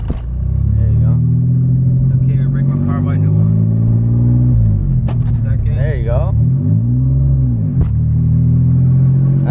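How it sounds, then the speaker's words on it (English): A 2016 Corvette Stingray Z06 engine idles with a deep steady rumble and rises into a couple of gentle revs, with people talking over it inside the car. "Just revving it a little bit."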